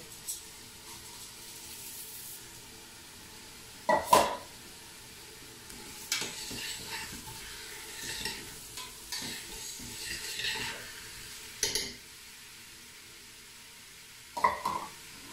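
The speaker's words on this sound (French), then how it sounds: "Et je vais venir ajouter mes lentilles." Lentils are tipped into a cooking pot of Moroccan harira soup and stirred, with a few scraping spoon strokes and clatters over a faint steady simmer, close up and without talk.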